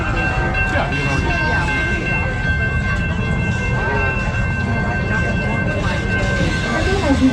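Serengeti Express train at Busch Gardens Tampa Bay rolling steadily with continuous low rumble and a faint steady tone, as a recorded announcement plays over the noise.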